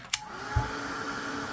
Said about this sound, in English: let's dry it up real quick. I love this dryer.